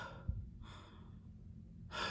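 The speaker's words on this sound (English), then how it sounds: "Like I'm actually like out of breath." Heavy, gasping breaths of someone winded after talking very fast, a sharp intake near the start and another rush of breath at the end, close and fairly quiet with no speech.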